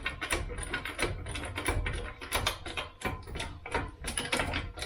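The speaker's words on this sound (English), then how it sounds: "I'm just going to jack this arm up until this starts going up into place" A trolley jack pumps up under an Austin Mini's rear suspension arm with rapid, repeated metallic ratcheting clicks, close and steady throughout.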